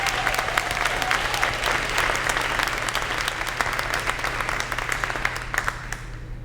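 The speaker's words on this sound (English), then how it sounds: "So can we please give them a round of applause?" An audience at a school leadership day applauds student leaders with steady, dense clapping that holds at an even level from start to finish over a low room hum.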